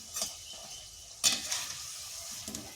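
Cauliflower and egg pakoras fry gently on low heat with a faint, soft sizzle, while a spatula stirs and scrapes the pan in three short, sharper strokes spaced about a second apart.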